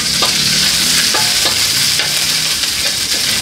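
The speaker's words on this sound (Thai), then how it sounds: "ผัดพริกแกงให้มันนั่นเหลืองหอมหอมสักก่อน" Curry paste being stir-fried in a pan, a continuous bright sizzle with a few soft scraping stirs of the spatula, close and steady with no talking.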